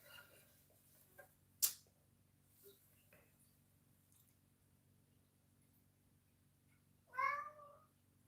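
A pet cat lets out a single short meow near the end, after a mostly quiet stretch broken only by a few faint clicks and taps.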